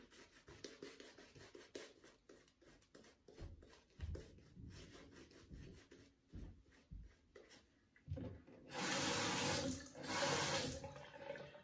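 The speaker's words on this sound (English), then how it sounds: "You can just see me add a little bit of water at a time." A wet shaving brush works Barrister and Mann Nordost shaving soap on an Excelsior base into lather, with water added a little at a time, making soft, squelching rubbing and swirling sounds that swell into louder, frothy bursts near the end.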